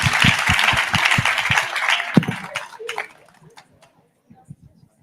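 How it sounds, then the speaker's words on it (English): Applause from an audience at an arts salon, a dense wash of clapping for about three seconds that fades out, with voices and scattered sounds continuing faintly after. "So let's give them a huge round of applause."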